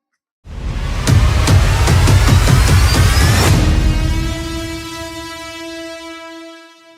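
An Indian Railways long-distance express train rolls along the tracks, loud and close, with rhythmic wheel clatter over rail joints and a sustained horn blast that fades as the train passes.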